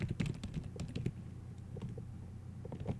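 Computer keyboard keys clatter in quick irregular bursts while data is entered into a Microsoft Office Access 2007 table, close and steady for several seconds with no talking.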